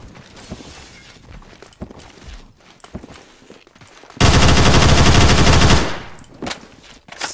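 An X95 SMG fires in the Phantom Forces shooter game as one loud, dense burst of about a second and a half, after a few scattered softer shots and clicks, with no talk.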